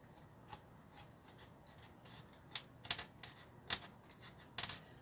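A really sharp knife slicing industrial foam on a Ritewing wing, a series of short crisp cuts and scrapes that start sparse and turn louder and more frequent, close and quiet, with no voices.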